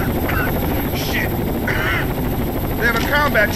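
A combat helicopter in Rainbow Six Vegas 2, a loud continuous rotor drone filling the scene while radio-style voices talk over it in short bursts.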